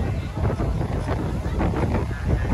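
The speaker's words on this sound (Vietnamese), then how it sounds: "Sóng và gió hơi lớn." Strong wind buffets the microphone on a high-speed boat crossing choppy sea toward Con Dao island, a loud rumbling roar with surging swells and no pause.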